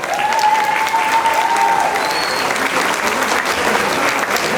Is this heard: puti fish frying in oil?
no